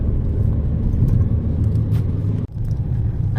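Car driving on a road in France, heard from inside as a steady loud low rumble of engine and tires with a brief dip partway through, no talking.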